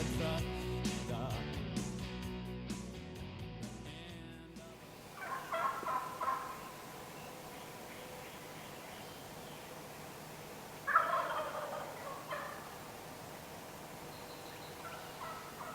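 Wild turkeys gobble from a roost on a field edge in western New York on a spring morning, two distant rolling gobbles some seconds apart after a brief stretch of other sound at the start.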